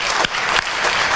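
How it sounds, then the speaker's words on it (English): Audience applause fills a school board meeting hall, a steady dense clapping from many hands that holds loud and even throughout, with no voices over it. "Let's give them a hand of applause, please."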